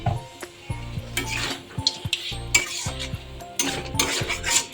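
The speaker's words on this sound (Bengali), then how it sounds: "সামান্য পরিমাণে ঘি দিয়ে দিয়েছি তারপর নাড়াচাড়া করে নামিয়ে নেব" Taro leaves are stirred with ghee in a pan, producing repeated metal spatula scrapes and clinks over a low sizzle, in irregular bursts close to the listener.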